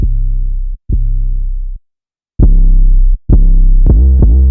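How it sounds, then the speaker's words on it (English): Deep, distorted 808-style sub-bass notes shaped by a saturator preset, with a gritty harmonic edge, played in sustained hits separated by short gaps, loud and alone. "This is a preset from Ableton's Saturator, and it's called 808 Shaper."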